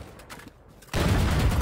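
Gunfire in the video game Valorant during a competitive match, a sudden dense burst of rapid shots breaking in after a quieter moment and continuing loud to the end.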